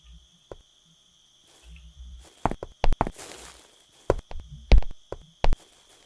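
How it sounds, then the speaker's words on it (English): Player character's footsteps in the game Sagebrush, with one oversized foot making every other step loud: a series of heavy, close thuds, uneven in rhythm, with a couple much louder than the rest over a quiet background. "That was such a single loud footstep."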